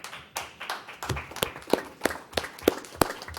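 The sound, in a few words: board members applauding staff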